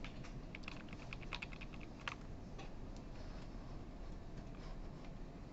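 Quick bursts of keystrokes on a computer keyboard while saving code, close, faint clicks under a steady hum of room noise, no speech.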